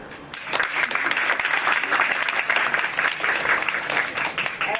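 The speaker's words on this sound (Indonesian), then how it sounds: "kita beri tepuk tangan yang meriah untuk Anggi Wulanjati dari Warta Jazz" An audience at a jazz event claps in a dense, lively burst of applause that holds steady, near and fairly loud, with a few voices underneath.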